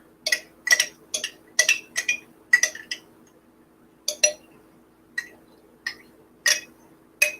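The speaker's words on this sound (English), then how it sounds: "Scrape down the sides here." A utensil scrapes So Delicious unsweetened coconut yogurt from the sides of a glass jar: a string of crisp clinks and scrapes in quick bursts, then sparser single taps, close and clear with no talk.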